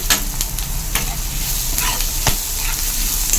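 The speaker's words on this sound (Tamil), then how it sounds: "வெங்காயம் நல்லா வதங்கட்டும்." Onions and curry leaves sautéing in a pan for a prawn curry give a steady, close, loud sizzle with occasional clicks of a stirring spoon, with no voices.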